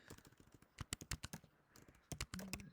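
Rapid, close keystrokes on a computer keyboard come in uneven bursts with short pauses, crisp and fairly quiet, with no talking.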